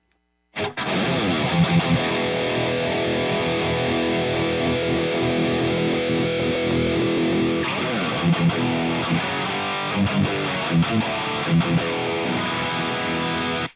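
Heavily distorted electric guitar chugs and sustains through a cabinet impulse response captured with a Sennheiser e906 mic, thick and close-miked, playing a continuous riff with a brief change partway through; no voices.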